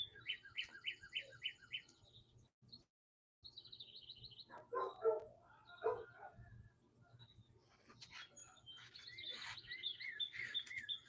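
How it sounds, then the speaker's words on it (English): Dogs shut inside bark and yelp in the distance, faint and intermittent, while birds chirp repeatedly outdoors. "My dogs are having a tantrum because I came out here."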